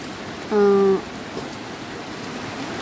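Heavy rain pours over rough seas, a steady, moderately loud hiss that fills the whole stretch, with one brief harmonic tone near the start.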